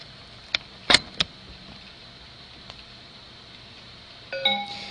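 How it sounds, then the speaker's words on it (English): A short electronic chime from computer software recognizing an ApneaLink device connected by USB rings out near the end, following a few sharp clicks and taps in an otherwise quiet room. "The sound you just heard was the software recognizing the ApneaLink."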